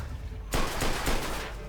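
Gunfire in the video game Mafia II during a shootout aimed at a car driver: a sudden loud burst of rapid, dense shots that carries on as sustained firing, with no talking.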